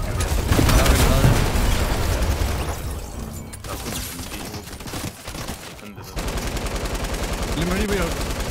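Bursts of automatic gunfire and booming shots from the video game Fortnite rattle loudly, then ease off into quieter rapid firing under background game sounds.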